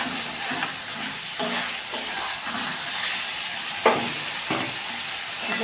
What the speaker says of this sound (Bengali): চিকেনটাকে ভালো করে আমি কষাতে থাকবো একদম লাল লাল করে কষিয়ে